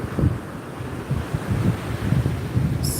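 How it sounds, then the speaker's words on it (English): Choppy ocean waves wash onto a Florida beach in soft, repeated surges, heard close under steady wind buffeting the microphone, with no talking. "But the waves are pretty, and the sun's finally out."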